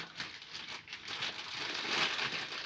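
A small packet of polishing paste for carbon and non-ferrous metals is opened up close, giving a steady, faint crinkling and rustling of packaging that swells slightly toward the end, with no voices.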